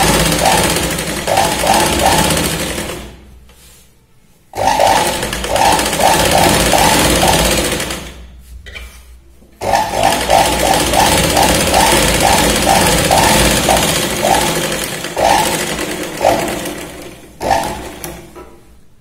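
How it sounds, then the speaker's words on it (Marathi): A sewing machine stitches the waist side of a tucked blouse in loud, rapid runs of needle strokes, pausing twice into near silence before starting up again. "त्यानंतर कमरेच्या साईडला पण आपण शिलाई लावून घेऊया."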